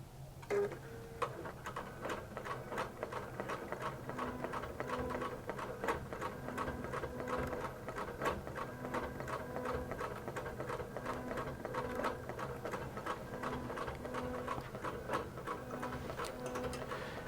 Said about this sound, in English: we're starting to applique stitch using QBOT V3, of course, on our long arm